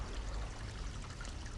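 A steady, dense pour of liquid, a continuous close splashing rush with no breaks throughout.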